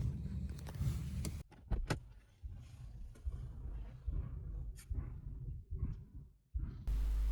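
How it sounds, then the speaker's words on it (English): A 2019 Lexus RX 300 sits with its engine running after an emergency start from a portable starter unit. A low, steady idle hum runs under clicks and mechanical clunks from the car's door and cabin. "We show that on the running engine the steering wheel and automatic transmission are unlocked"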